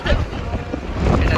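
Strong wind on a ferry buffets a phone microphone, a loud, roaring low rumble that surges and holds for the whole short stretch, with boat and water noise underneath.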